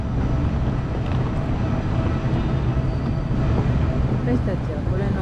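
Steady rumbling train noise fills the whole stretch at a large railway station in Portugal, a continuous low roar with faint clanks, with voices talking over it.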